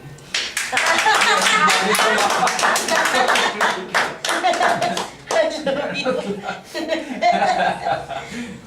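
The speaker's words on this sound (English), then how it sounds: "And you're not clapping." Audience clapping in a classroom during a student presentation, scattered claps with chuckles and laughter mixed in, close and fairly loud, with voices talking over it.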